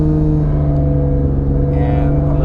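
A 2013 Infiniti G37 sedan with aftermarket test pipes under full throttle, a loud, steady engine drone with strong low harmonics, heard close from inside the car.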